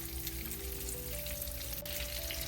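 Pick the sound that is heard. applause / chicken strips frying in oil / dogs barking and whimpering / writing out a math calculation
chicken strips frying in oil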